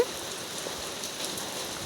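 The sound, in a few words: heavy rain falling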